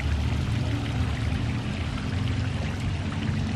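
A small garden fountain splashes and pours steadily into its basin, a continuous close watery rush with low burble, beside water lilies and palm trees in a rural West Texas oasis at San Angelo.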